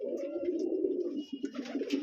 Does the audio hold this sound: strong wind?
no